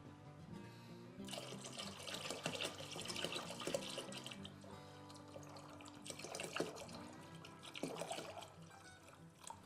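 Clean water pours steadily into an air still, filling it to the fill mark: a close, continuous splashing trickle that swells and dips in strength over several seconds, with no talking.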